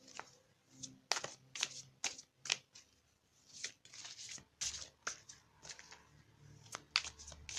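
A deck of tarot oracle cards is shuffled by hand in quick, irregular riffling bursts with short pauses between them, close and fairly quiet, with no talking.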